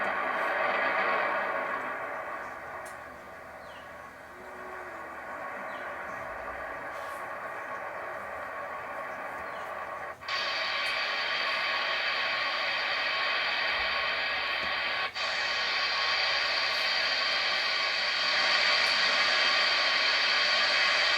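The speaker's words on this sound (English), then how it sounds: "There's a lot of noise right now." Steady hiss of shortwave radio static fills the whole stretch, with two brief dropouts where the noise abruptly shifts brighter and continues unbroken.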